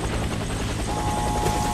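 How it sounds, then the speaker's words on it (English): Steady rotor drone from a helicopter in the video game Warface, a continuous mid-loud whirring wash that holds without pause, with a faint higher tone entering partway through and no talking. "You get damage from the helicopter."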